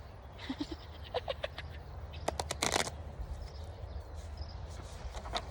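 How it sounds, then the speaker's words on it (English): Playing cards being shuffled, with a burst of riffling around the middle, surrounded by lighter card handling and chirping birds in the background. "I'm just shuffling cards."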